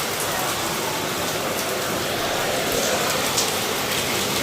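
Heavy monsoon rain pours steadily on surfaces outdoors, a dense continuous hiss with fine drop patter that stays even and fairly close throughout, with no voices.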